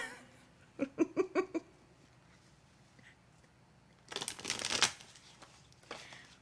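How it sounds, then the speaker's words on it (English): Tarot cards shuffled by hand in one quick riffling burst of papery flutter, close by, after a short run of laughter-like voiced sounds, with a faint rustle near the end. "Mary Jane, I'm going to pull a card for you. I'm shuffling"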